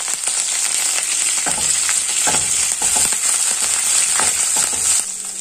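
Ginger, garlic, green chili and curry leaves sizzle in hot oil over medium flame for a tomato curry, a bright steady hiss with a few stirring clinks and scrapes up close.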